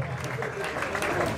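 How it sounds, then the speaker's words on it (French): Audience at an honorary diploma ceremony applauding, a dense patter of clapping under a crowd murmur, with talk mixed in. "avec vos applaudissements s'il vous plaît"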